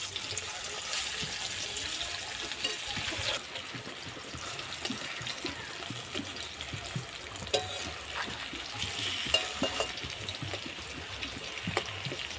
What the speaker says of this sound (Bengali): কোলাগুলো আমি লাল লাল করে ভেজে নেবো